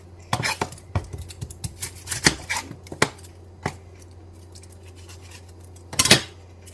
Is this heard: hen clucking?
no